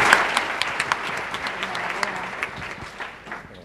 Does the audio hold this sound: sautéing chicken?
no